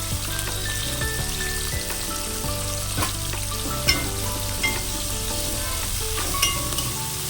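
Onions, green chillies and tomato with a pinch of turmeric fry in a pan for chickpea dal biryani, giving a steady close sizzle with occasional stirring clinks over faint background music.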